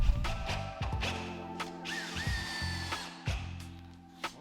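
A power drill driving screws into a wooden modern chair build, with the motor whirring in short bursts and slight pitch bends between pauses and small clicks, close and moderately loud, with no talking.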